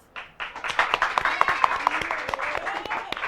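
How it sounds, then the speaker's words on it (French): Schoolchildren and audience clap in applause at a Christmas school event, a dense burst of hand claps rising quickly and continuing steadily with voices and cheers mixed in. "On applaudit pour la connaissance."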